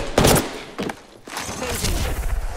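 Video game gunfire crackles in quick bursts, sharp loud shots clustered at the start and again near the end, with rapid volleys and a busy background.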